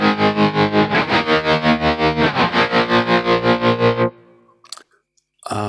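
A heavily distorted electric guitar played through a Kemper Profiler, a steady pulsing strummed chord ringing loudly for about four seconds before cutting off, followed by faint clicks and a short burst.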